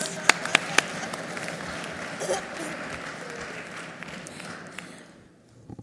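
Applause from a conference audience at a BRICS business engagement event, a fairly quiet, steady patter of many hands heard from a distance. A few sharper claps stand out near the start, and the sound fades out at the end.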